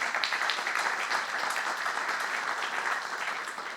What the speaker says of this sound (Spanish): Un aplauso para Constanza.